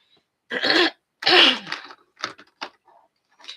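A few short, harsh coughs and throat-clearing bursts from a person with hiccups, close and fairly loud, followed by smaller catches and breathy sounds with pauses between.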